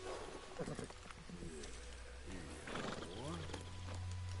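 A horse in the Red Dead Redemption II video game whinnies twice in loud descending neighs, with hoofbeats clopping underneath and a voice murmuring nearby.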